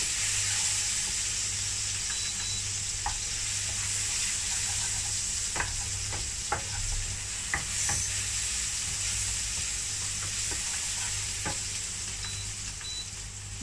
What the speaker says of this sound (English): Now the garlic's starting to brown up, and I can smell it.